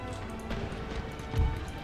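Cavalry horses galloping in the Empire: Total War battle game, a brief muffled thud of hooves under dense battle din, with one heavier impact near the end.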